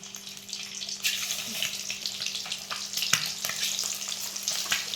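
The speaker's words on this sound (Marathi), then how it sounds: "आपण अंडे असे टाकून घेऊ. चांगली फ्राय करून घ्यायचं आपल्याला." Eggs sizzle in hot oil in a pan for a dhaba-style egg masala. The frying hiss runs steadily throughout, and a few soft clicks and scrapes sit under it.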